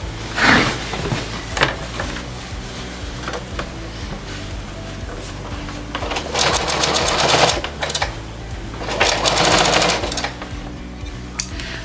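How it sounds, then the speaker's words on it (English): A domestic sewing machine stitches binding onto a quilt in steady bursts, with rapid needle chatter rising and pausing across several runs and a bright mechanical whir between quieter handling. "I've just finished attaching that binding by machine"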